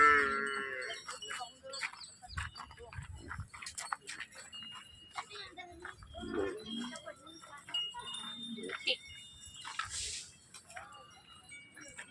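Buffaloes low and moo repeatedly at a busy outdoor buffalo market during a fair, the calls scattered and moderately distant, mixed with crowd chatter and general market bustle.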